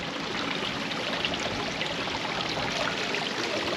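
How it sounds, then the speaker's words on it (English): Water flows continuously from a pond fountain, a steady close splashing rush that fills the whole stretch without speech. "We're moving lots of water."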